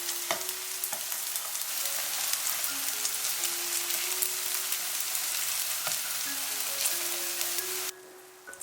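Glutinous rice and lotus root patties fry steadily in a pan over medium-low heat, a continuous close sizzle with occasional light knocks as they are turned, ending abruptly.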